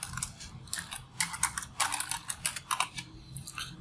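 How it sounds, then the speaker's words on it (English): Keys tapped on a computer keyboard to type a name into a fillable form field, a quick irregular run of light clicks, close and fairly quiet, with no talking. "I'm gonna come over here and type my name."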